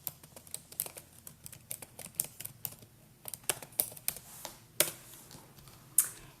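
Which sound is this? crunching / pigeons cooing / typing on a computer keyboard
typing on a computer keyboard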